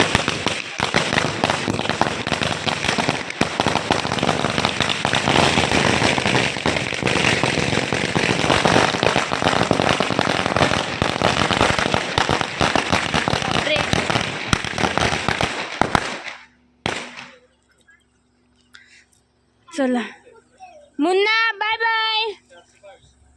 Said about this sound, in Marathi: आता फटाके लावलेत आम्ही